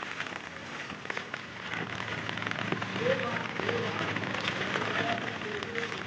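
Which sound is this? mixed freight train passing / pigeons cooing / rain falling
rain falling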